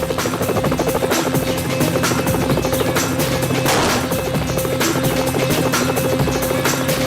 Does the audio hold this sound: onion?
no